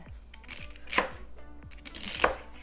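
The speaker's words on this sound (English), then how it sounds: "I don't have a juicer, but I do have a food processor." Food processor chopping celery in a home kitchen, with two loud whirring bursts of the blade and repeated chopping knocks in between, close by with no talk.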